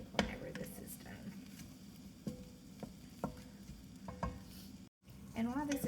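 Ground meat sizzles in a pan for lasagna soup, a soft, continuous frying hiss broken by scraping stirs, with a brief voice near the end.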